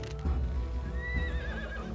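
A horse in the Humankind strategy video game gives a loud, close, quavering neigh over a low rumble of hooves and battle ambience, lasting about two seconds.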